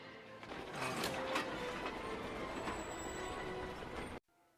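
A train rumbles along steadily with clattering wheels and faint metallic squeals, loud and continuous before cutting off suddenly.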